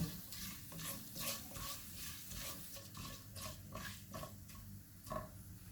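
Turmeric, crushed red chilli, amchur and salt roasting in a pan for a potato fry, giving a soft continuous sizzle with repeated scraping stir strokes, near and steady, with no talk.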